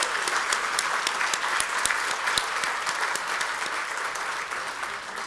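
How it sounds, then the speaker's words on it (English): An audience at an evening arts benefit gala claps steadily in sustained, dense applause, with a few louder individual claps standing out up front. "that deserves a round of applause"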